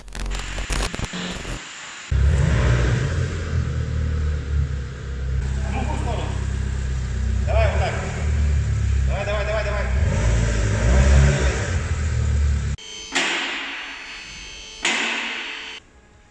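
Mitsubishi Pajero Mini with a broken-off, rotted muffler drives along, its loud, rough engine and exhaust drone steady for most of the run before cutting out, with brief talk near the end.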